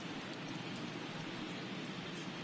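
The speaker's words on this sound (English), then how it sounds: "Again, the rain has been steady since the start of this ball game" Steady rain falling on a ballpark during a baseball video game, a dense, even hiss of rainfall that holds at a constant level throughout with no voices over it.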